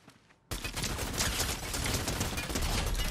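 Video game shootout gunfire bursts in after a brief near-silence, then continues as a dense, loud, sustained rattle of overlapping shots to the end.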